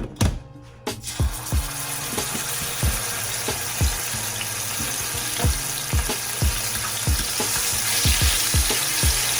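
Garlic frying in a pan for Jamaican ackee and saltfish, a steady close sizzle with a regular series of sharp knocks from a spoon striking the pan throughout.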